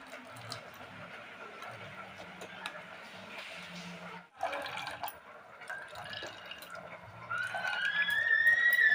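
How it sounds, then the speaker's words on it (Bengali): Grated coconut is squeezed by hand to press out its milk, making close wet squelching and trickling into a container, with the liquid pouring grows louder toward the end. "নারকেল থেকে রসটা বের করে নেব"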